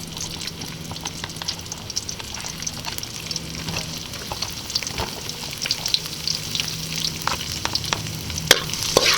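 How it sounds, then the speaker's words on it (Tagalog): Garlic sautéing in hot cooking oil, a steady soft sizzle and crackle with occasional stirring scrapes and small pops, fairly quiet and continuous. "paiinitin po natin yung ating mantika para maigisa na po natin yung ating bawang."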